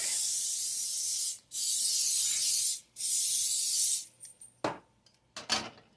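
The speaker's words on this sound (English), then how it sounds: "So just mainly spray all around the edges so it don't stick." Three long, steady hissing bursts of cooking oil spray onto a baking pan, each about a second and a half, followed by a few shorter spritzes and light clattering, close by.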